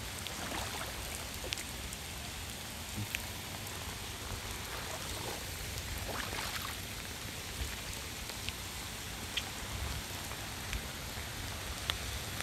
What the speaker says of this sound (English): I like how all the rain always builds up over here.